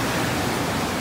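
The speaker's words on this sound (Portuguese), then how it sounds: "Olha que cachoeira legal. Cachoeira das Antas." Cascata das Antas waterfall in a Brazilian park, a dense, steady roar of falling water with no pauses.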